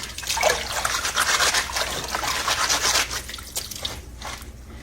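Collard greens rubbed and rinsed by hand under running water in a colander, a steady close trickle and splash with leafy rubbing that thins out toward the end.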